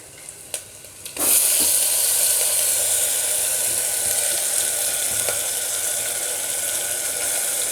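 Ground paste hits a hot frying pan for gongura tripe curry, a few clinks followed by a sudden loud, steady sizzle that keeps hissing while being mixed, with no talking.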